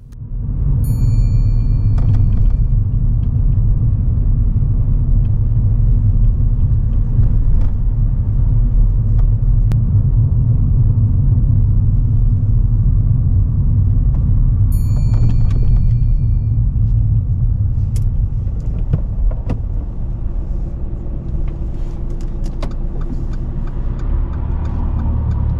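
Car driving along a road at steady speed, a loud continuous low engine and road rumble filling the cabin for the whole stretch, with occasional faint clicks and no talking.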